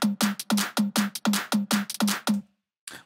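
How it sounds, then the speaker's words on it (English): A simple electronic drum loop, normally 130 BPM, sped up to a frantic 160 BPM for a track: quick punchy kick-and-snare hits in a tight driving pattern, loud and close, stopping briefly before one last faint hit. "So I got a simple drum loop"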